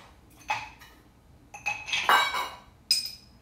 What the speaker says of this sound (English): Then we're going to add in our ice.